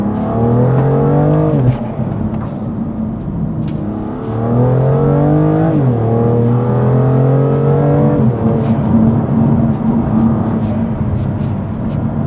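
A tuned BMW M2 Competition making around 500 hp accelerates hard, heard from inside the cabin, engine note climbing through the revs with sharp drops at gear changes, repeated pulls, loud and continuous with no talk.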